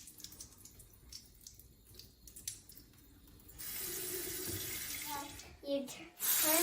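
Light taps and faint trickles, then a tap opens and water runs steadily from about halfway through, splashing and surging near the end while a face is rinsed.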